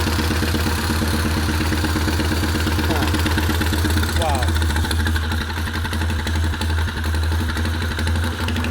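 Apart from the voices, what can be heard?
old motorcycle engine idling while warming up on choke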